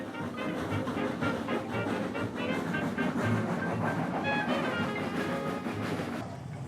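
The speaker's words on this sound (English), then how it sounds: "all served by Matilda, while the train made the journey to Flaxfield and back." A train rolls steadily along the rails with a continuous rumble and rhythmic clickety-clack, moderately loud and unbroken throughout.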